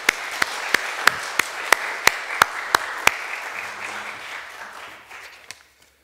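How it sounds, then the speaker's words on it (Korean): A church congregation applauding the choir at a Sunday worship service, loud sharp rhythmic unison claps about three per second that loosen into scattered clapping and fade out, with faint murmuring underneath. "우리 다 같이 한번 다시 박수하면 좋겠어요"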